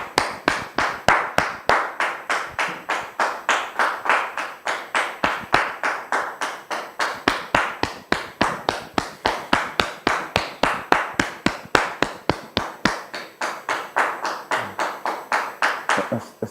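An audience at a gathering welcomes a guest with steady rhythmic clapping in unison, about three claps per second, moderately loud and close, holding an even beat for the whole stretch with no talking over it.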